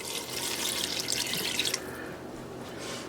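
Water and beer poured into a cooking pot, a bright splashing stream for under two seconds that then gives way to a softer, settling trickle.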